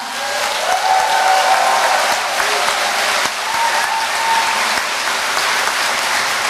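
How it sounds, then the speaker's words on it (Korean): Sustained audience applause fills an indoor inauguration ceremony for a provincial governor in South Chungcheong, a dense, loud, even clapping from a large crowd lasting the whole stretch, with a faint voice beneath. "다시 한번 큰 박수 부탁드립니다"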